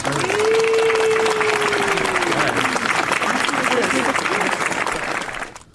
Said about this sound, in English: Where's the round of applause?